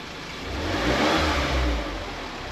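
A car engine revs after a home spark plug change, a single steady rise and fall of engine noise lasting a couple of seconds, close and fairly loud with no talk.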